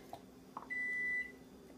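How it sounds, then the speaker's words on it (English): A single sustained electronic dishwasher beep, steady and high-pitched, lasting about half a second, with faint kitchen noise before and after. "Don't mind the beeping, that's my dishwasher."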